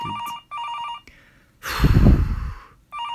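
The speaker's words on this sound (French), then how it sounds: "Encore le téléphone." Telephone ringing inside the Haribo factory in Uzès: two bursts of an electronic double-tone ring, a brief loud rustling crash between them, then the ring resumes near and clear.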